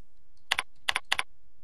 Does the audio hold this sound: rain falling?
no